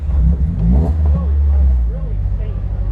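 A Mazda Global MX5 Cup race car engine rumbles close by at idle, then rises and falls in short revs, a deep loud throb with people talking over it.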